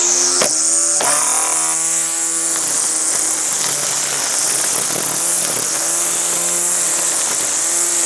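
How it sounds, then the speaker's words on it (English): A Husqvarna 320iL cordless string trimmer runs steadily at close range with a loud, high electric whine, and a couple of sharp knocks early on as it is bumped on the ground to feed out more line. "just bump it on the ground while it's running and it'll dispense more line"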